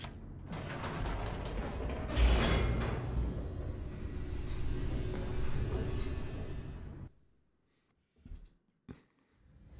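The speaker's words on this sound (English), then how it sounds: "The elevator raced downward, plummeting towards an unknown fate." A descending elevator in the video game The Stanley Parable gives a loud, continuous mechanical rumble with creaking and grinding for about seven seconds, then stops abruptly, leaving near silence broken by two brief clunks.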